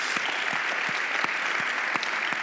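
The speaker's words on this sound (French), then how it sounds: "vous pouvez les applaudir." Audience applause at a conference closing session, a dense steady wash of many hands clapping throughout with no talk over it.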